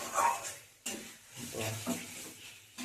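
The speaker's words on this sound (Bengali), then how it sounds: "মশলা কষাচ্ছি, চিকেন মশলা কষানোর পর চিকেন দেবো।" Spice masala for chicken curry fries in a pan, a soft close sizzle broken by scraping stirs at irregular moments.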